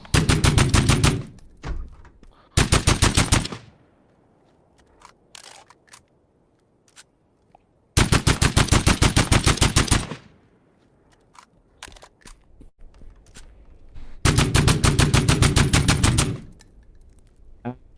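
Game gun firing in three long rapid automatic bursts, loud and close, separated by quieter stretches of mechanical reloading clicks and clacks; no talking.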